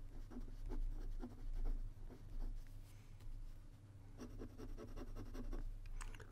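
A Pilot Custom 845 urushi fountain pen with Pilot Takisumi black ink writes on Rhodia paper, giving soft, close, scratchy strokes in quick bursts over a low steady hum.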